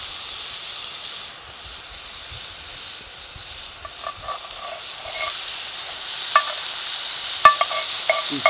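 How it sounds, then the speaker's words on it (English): A steady hiss of burgers sizzling on a tripod grill over hot coals, broad and continuous, with a few small pops and crackles breaking through toward the end. "The coals are perfect, and as you can hear it, it's sizzling."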